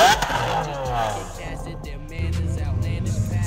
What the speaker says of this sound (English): From another event, here's the SVJ rev.